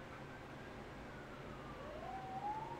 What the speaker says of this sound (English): Oh, and here come the sirens.